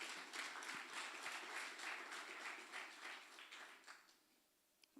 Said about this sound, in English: A round of applause, colleagues.